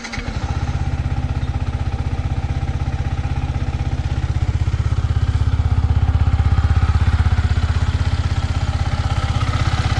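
A Yamaha MT15 motorcycle in neutral starts up and settles into a steady, loud, close idle, its rapid even engine pulse running alone without speech for the whole stretch.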